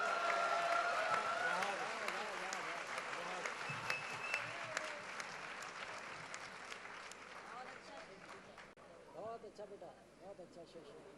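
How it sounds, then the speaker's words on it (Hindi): Loud, sustained applause from a large audience at a kavi sammelan poetry gathering, dense clapping filling the whole stretch and thinning toward the end, with a voice briefly heard over it. "तालियां हो जाएं एक बार जोरदार।"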